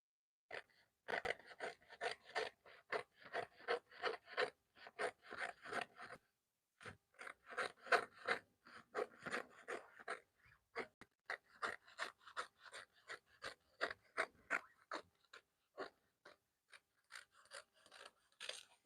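Scissors cutting fabric for sewing a BuBu garment with an Asoke front placket and pocket: rapid, close, crisp snipping in rhythmic bursts with short pauses between runs, alone without talk.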